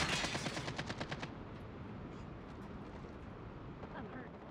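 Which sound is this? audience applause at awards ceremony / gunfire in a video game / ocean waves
gunfire in a video game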